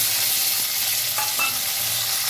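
Mangoes sizzle as they go into hot oil with a mustard seed tempering, a loud, steady hiss with a few brief clinks of the spoon, and no voices.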